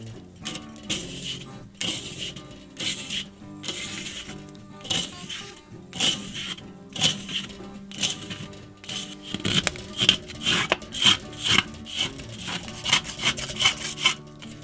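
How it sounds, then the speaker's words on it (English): A plastic putty knife scrapes grease from the inside of a Weber kettle charcoal grill in short, repeated rasping strokes, close and fairly quiet, with brief pauses between the passes. "take your scraper and just begin going down the side of the grill"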